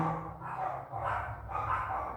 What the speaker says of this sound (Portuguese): o cachorrinho que ladra lá fora